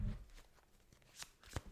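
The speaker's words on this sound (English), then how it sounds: "Let me carry on pulling the cards out." Tarot cards shuffled and drawn from the deck, a faint, close riffling rustle with a couple of soft card flicks near the end.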